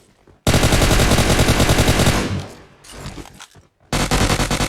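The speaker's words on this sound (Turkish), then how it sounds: "Evet şimdi sol taraftan da silah sesleri geliyordu." Loud bursts of rapid automatic gunfire in PUBG Mobile, a long volley, a short pause with scattered shots, then another heavy burst, close and dense.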